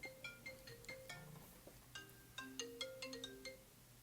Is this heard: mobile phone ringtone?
yes